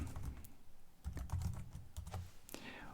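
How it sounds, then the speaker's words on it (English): Someone types a report title on a computer keyboard while working in SSRS Report Builder, producing quiet, irregular bursts of key clicks with short pauses between words, close and without speech. "start typing in my actual title"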